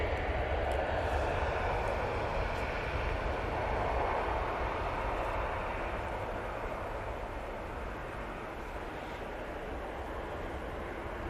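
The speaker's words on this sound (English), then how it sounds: "Ryanair, now on the roll, going back to Helsinki" A Ryanair jet rolls for takeoff toward Helsinki at Manchester Airport, a broad, steady engine roar held at moderate distance for over ten seconds, easing slightly toward the end without talk.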